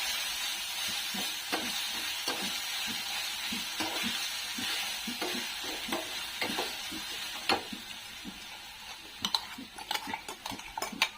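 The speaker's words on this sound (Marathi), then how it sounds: "आता ही लसूण, खोबरं, मिरची वाटलेली टाकायची आपल्या तेलात आणि परतून घ्यायचे चांगलं" A ground paste of garlic, coconut and green chili sautés in hot oil for a potato patty filling, giving a steady soft sizzle. A utensil stirring in the pan adds frequent light clicks and scrapes that grow busier toward the end.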